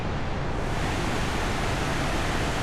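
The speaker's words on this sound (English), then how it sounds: "you can really hear the creek down there that we camped on last night" A backcountry creek below a campsite in Colorado's Weminuche Wilderness rushes as a constant, dense broadband hiss, steady and unbroken with no voices.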